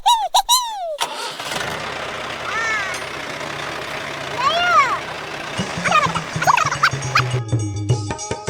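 A tractor engine cranks and catches in a village field, then settles into a steady low running drone, while people talk and call out loudly over it.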